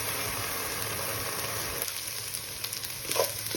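Salted ingredients for a fig and prawn curry fry in a pan with a steady, close sizzle, which quietens slightly near the end, with some faint stirring noises and no talking.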